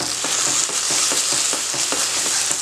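Potato and onion curry frying in a pan, a loud, steady sizzle with a regular scraping rhythm of stirring throughout.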